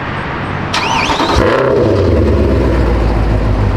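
A Mercedes W204 C63 with a Valvetronic exhaust, valves open, starts with a sharp starter whine and then fires into a loud, deep rumbling idle that holds steady and close.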